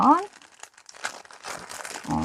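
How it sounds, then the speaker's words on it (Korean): Plastic wrapping on an eco-friendly handheld fan craft kit is torn open, giving close, loud crinkling and rustling, with a voice briefly heard at the start and end. "키트를 저희가 한번 뜯어 보겠습니다"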